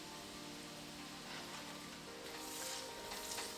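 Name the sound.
white onion added to bacon fat in a frying pan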